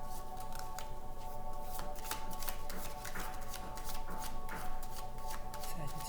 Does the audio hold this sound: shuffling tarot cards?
yes